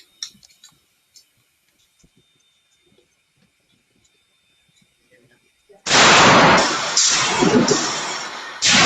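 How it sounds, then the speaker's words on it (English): A Panzer Arms EG200 shotgun fires Black Aces Tactical 2 3/4-inch one-ounce slugs at an outdoor range. After a long quiet stretch, several loud, close, booming shots come in quick succession, each ringing into the next. "Now switching over to Black Aces Tactical 2 3/4 1-ounce slugs, also rated at 1650 feet per second. Going 5 rounds on this one as well."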